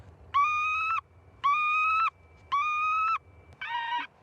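Recorded distress call of a northern lapwing broadcast by remote-triggered bird scarers at Roissy Charles de Gaulle airport: three loud, even, harmonic cries of about half a second each, then a fourth shorter and shakier one, with no voices.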